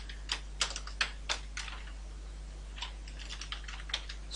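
Code typed on a computer keyboard: irregular clusters of light key clicks, fairly close and quiet, with a low steady hum beneath and no talking.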